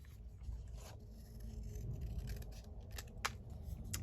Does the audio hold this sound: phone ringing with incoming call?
no